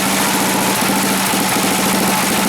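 A small engine on a homemade cart, with a primer bulb and choke like a snowblower's, idles steadily and loudly at close range. A fast, even chug carries on without talk.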